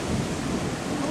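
A heavy rain and hail storm: a dense, steady roar of pounding precipitation with a deep rumble underneath, loud and continuous throughout.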